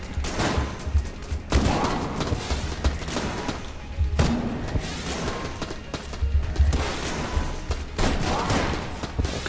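Rapid bursts of gunfire in Enter the Gungeon, clusters of shots and thudding impacts coming in waves separated by brief lulls, moderately loud and up close.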